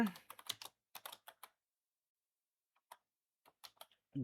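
Computer keyboard typing in a short series of quick clustered keystrokes at a moderate distance, broken by a long quiet gap and ending with a few more taps; a faint voice briefly cuts in near the end.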